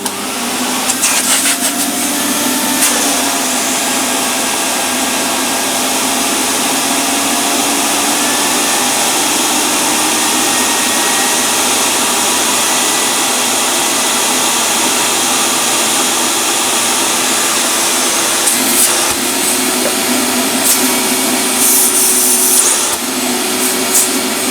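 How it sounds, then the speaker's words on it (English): A Hoover Aria AR30 cylinder vacuum cleaner runs on its minimum setting with a new motor, giving a steady, loud whirring drone that holds unbroken throughout with no talking. "I don't think this will be quiet, I don't think it'll be ultra loud, but I don't think it'll be described as a quiet vacuum."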